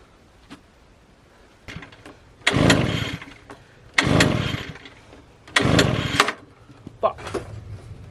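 A small engine is cranked over and over without catching: several loud, close bursts of pulling and sputtering, each lasting about half a second to a second, separated by quiet pauses.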